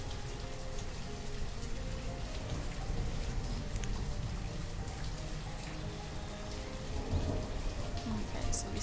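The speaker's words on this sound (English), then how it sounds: "This is a very rainy winter." Steady rain falls during a very rainy winter in the video game Banished, a constant even patter of drops that continues at a moderate level throughout.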